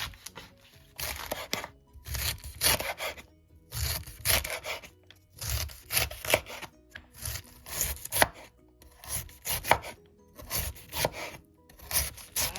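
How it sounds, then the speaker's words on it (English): A knife chops through cabbage on a cutting board in repeated bursts of quick, crisp strokes separated by short pauses, close and clear, with no talking. "I'm gonna go ahead and cut up this cabbage here now"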